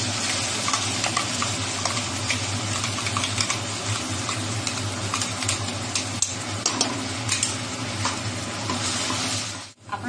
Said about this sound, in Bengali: দেখতে পাচ্ছেন আমি কিভাবে করে কম আঁচ করে মশলাটাকে কষে নিচ্ছি।